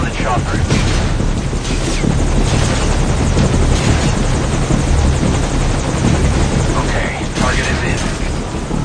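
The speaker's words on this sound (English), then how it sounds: "Target recovered, and we're on the chopper." A helicopter in the video game Metal Gear Solid V roars loudly and continuously with a dense rotor wash, dominating the scene, while a voice is faintly present beneath it.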